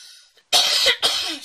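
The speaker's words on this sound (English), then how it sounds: "sorry for the coughing" Two harsh, loud coughs close to the microphone, the first longer and the second following after a brief pause, from a woman partway through unboxing two diamond painting packages.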